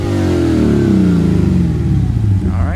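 A Lexus GSF V8 with a newly installed aftermarket exhaust revs up loud and close, the pitch climbing then sliding back down in a smooth, throaty sweep with no talk over it.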